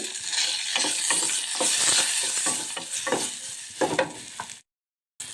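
Fenugreek seeds, curry leaves, dried red chillies and turmeric sizzling in hot oil for a pepper rasam, a loud bright sputter with repeated stirring scrapes, then a sudden brief silence near the end.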